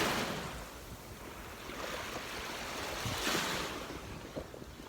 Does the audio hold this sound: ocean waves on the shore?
yes